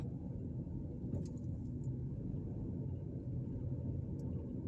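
Low, steady rumble of a car rolling through an ordinary working-class neighborhood in Gary, Indiana, heard from inside the cabin as a constant road and engine drone with no sharp events.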